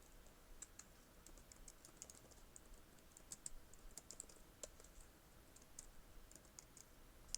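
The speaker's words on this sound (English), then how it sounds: "I'm typing it backwards" A computer keyboard is being typed on in steady, irregular bursts of light clicks, faint and close, with no voices and only a quiet background hiss.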